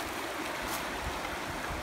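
Steady rushing water from a stream flows close by, a continuous broadband wash with no voices over it.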